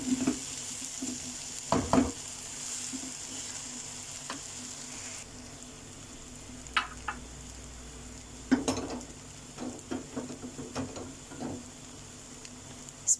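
Chicken schezwan fried rice is stirred in a pan over low flame, with a steady soft sizzle under scattered scraping and clinking of the utensil against the pan, the knocks coming irregularly and fairly close.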